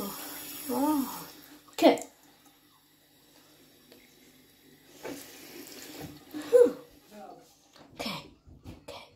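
Water poured onto a Patriot DVD, heard as a few short splashy bursts between quieter stretches, with a cough and brief talking nearby.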